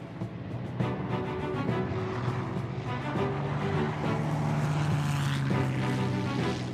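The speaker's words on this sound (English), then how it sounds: "to hear the roar of the Merlin engine, it's the most wonderful noise you can imagine" Supermarine Spitfire with its Merlin engine, a steady loud droning roar with a rising tonal hum, continuous and close throughout with no talk.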